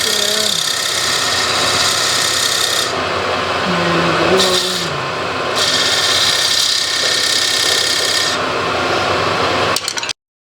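Homemade belt-driven wood lathe running at high speed, a continuous loud whir and rubbing hum with brief shifts in tone and faint tonal squeaks, ending abruptly.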